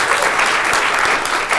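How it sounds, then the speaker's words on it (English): A dense, loud burst of audience applause at a horror convention interview in Romford, a continuous wash of many hands clapping close by, with no talk over it. "Give her a big round of applause"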